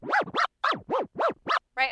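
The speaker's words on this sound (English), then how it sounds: "one clover tear sounds like this" Clover tear scratches on a DJ turntable: six quick, loud swooping record scratches in tight pairs and triplets, ending with a short burst of tone, all without talking.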